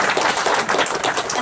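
A brief, dense burst of audience applause, many hands clapping together loudly and evenly for a moment.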